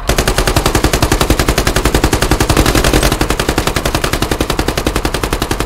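Loud, rapid automatic gunfire in the video game Squad, a steady unbroken stream of shots lasting several seconds, with no voices.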